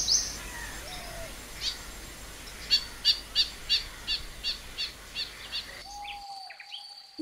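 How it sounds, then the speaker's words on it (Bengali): Birds singing in a green sanctuary, with a run of about ten sharp, evenly spaced chirps in the middle over a soft hiss of insects and ambient noise. A few fainter calls come before and after. "রং বেরঙের এসব পাখির কিচিরমিচির শব্দ"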